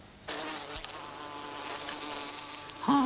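A small fly buzzes close by, a continuous high whining drone that starts abruptly and holds steady at a fairly loud level, with a brief voice at the very end.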